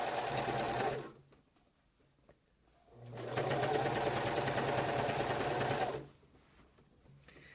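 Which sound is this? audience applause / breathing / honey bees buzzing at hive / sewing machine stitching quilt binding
sewing machine stitching quilt binding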